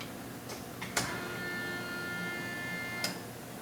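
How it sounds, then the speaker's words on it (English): Fuel pump priming in a Chevy S10 with an LS engine swap, a faint steady whine running for about two seconds between sharp clicks from the key cycling, heard low against background hum. "That's a fuel pump."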